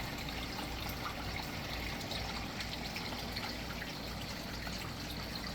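Creek water trickles steadily past long grass lying in the stream, a soft continuous wash with no voices, close and even throughout.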